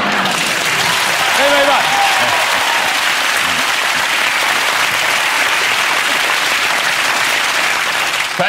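A studio audience applauding loudly and steadily, with a brief spoken word of thanks at the start before the clapping carries on alone.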